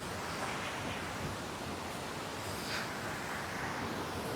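Steady broadband rush of a stream flowing below a hillside in a forest, heard from a distance as a continuous, even wash with no voices.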